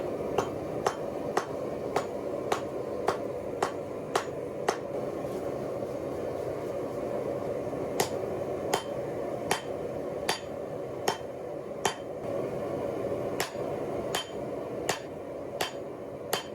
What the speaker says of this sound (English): Time to start forging in the tip, and then to establish the bevels.